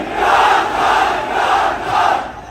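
Rally crowd at an Imran Khan Azadi March shouting slogans in unison, a loud, dense mass of voices rising and falling in repeated chant waves, close and sustained with no single speaker.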